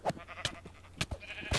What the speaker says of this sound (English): there's a lot of sheep over here